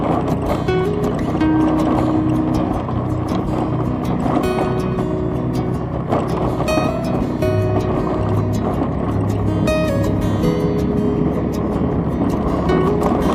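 Motorcycle riding over a rough, damaged village road, its engine droning steadily and close for the whole stretch with rattling and bumping over the uneven surface.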